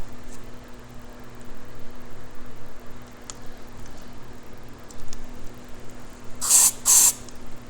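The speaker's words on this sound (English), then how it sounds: "I'm forgetting to silicone spray" Two short hissing bursts of silicone aerosol spray near the end, close and crisp, after a stretch of quiet room hum and light handling noises.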